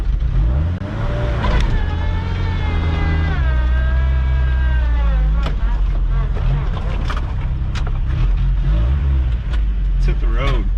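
Engine of an abandoned Mitsubishi-made Dodge Ram 50 pickup with a troublesome carburetor, running steadily with a low rumble and rising revs as the truck drives, loud and close, with talk over it.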